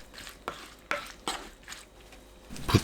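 Shishito peppers are tossed and mixed in a seasoning sauce, giving a series of wet, rhythmic stirring and slapping strokes about every half second, close by, with a louder clatter near the end.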